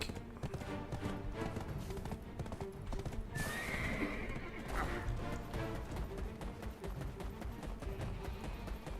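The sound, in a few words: horse galloping and neighing in a video game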